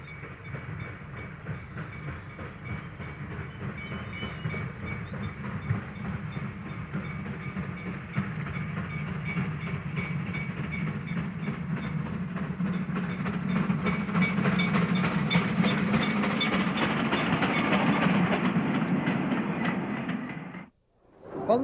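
A steam train running on the Kent and East Sussex Railway during a military theme day with troop trains: a steady, loud rolling rumble with rhythmic clickety-clack of wheels over rail joints that swells slightly before cutting off abruptly.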